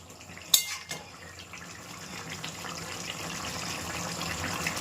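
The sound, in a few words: water poured into chicken curry pot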